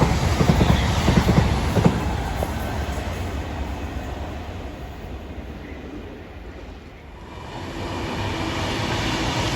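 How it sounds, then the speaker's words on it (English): A Class 350 passenger train arriving into London on the West Coast Main Line, loud rumbling and rattling of wheels on track, fading slightly then rising again as it passes close by. "As a Class 350 comes into London."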